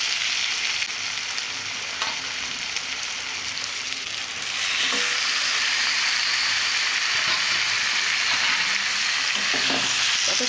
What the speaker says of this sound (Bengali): এইভাবে কষে নেব।